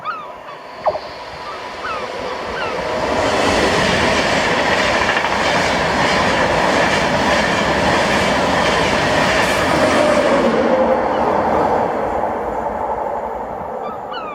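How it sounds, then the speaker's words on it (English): A London North Eastern Railway passenger service from Edinburgh to London King's Cross rushes through Dunbar station, swelling from distance into a loud, sustained roar with rhythmic wheel clatter before easing away. "this was 1E21, the 1549 London North Eastern Railway service to London King's Cross from Edinburgh."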